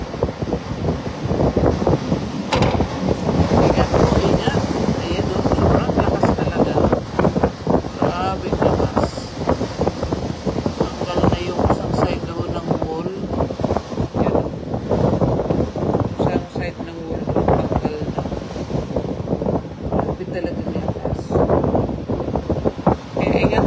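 Strong Typhoon Uwan winds roar steadily and loudly, buffeting the microphone in constant gusting rushes that fill the whole scene without a break.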